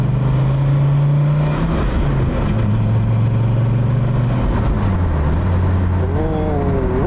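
Dodge Viper sports car cruising at about 140 km/h, a steady loud engine drone with road and wind roar throughout, the pitch dipping and shifting as speed changes, with a faint tonal whine near the end.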